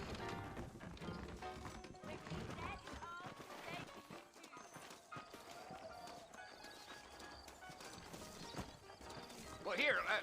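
Horse hooves clip-clop steadily in a Western video game town as saddled horses move along, the rhythmic hoofbeats running under game music and spoken dialogue.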